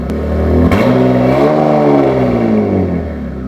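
A V6 turbo engine with a new aftermarket exhaust revs up from cold idle, the tone climbing and holding as a steady, loud drone for a few seconds, then easing back down. Close by, with no talk.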